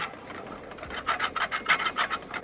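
Potatoes being scraped around the bottom of a hot skillet on a camp burner, a series of close, rhythmic raspy scrapes with short pauses between strokes.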